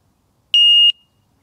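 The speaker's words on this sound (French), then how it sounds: "Alors, il y a une petite alarme sur ce cadenas qui est pas mal." Anti-theft alarm padlock arming itself: a single short, clean high-pitched electronic beep of about a third of a second, close and isolated against silence.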